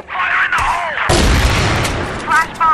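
Sniper rifle fire in the CrossFire video game during a tournament final, a loud sharp shot and booming report up close, while an excited commentator talks over it.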